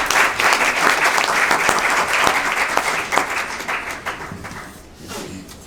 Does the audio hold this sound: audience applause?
yes